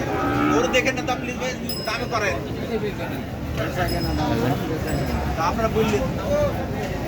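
Friesian cattle at the Baneshwar cattle market moo repeatedly, several calls close and loud over busy crowd chatter and market noise, with occasional clinks.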